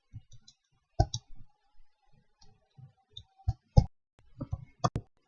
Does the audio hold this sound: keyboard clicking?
yes